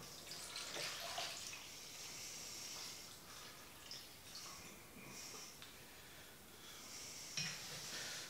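Rice being rinsed for sushi in a bowl of water, with soft sloshing and trickling through the clip and a few brief splashes, close and fairly quiet with no talk.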